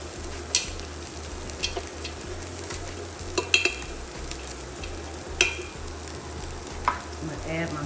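Flour cooks in fat in a pan for pulled pork pinto beans, with a soft, steady sizzle and irregular scraping clicks of a utensil stirring against the pan, close by, over a faint low rhythmic hum.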